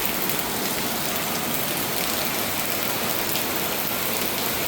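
Heavy night rain pouring down outside a condo, a dense, loud, unbroken hiss of drops striking hard surfaces that stays steady throughout with no voices.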